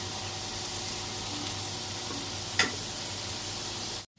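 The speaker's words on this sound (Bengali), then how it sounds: "এরকম পটেটোগুলো এরকম করে ভাজা হচ্ছে" Potatoes frying in white oil in a pan, a steady broadband sizzle and crackle throughout with one brief sharper pop midway, no talking, ending in a sudden cutoff.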